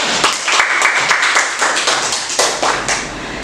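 An audience claps together at a training session on positive school culture, a steady dense round of applause that carries evenly for a few seconds with no voices over it.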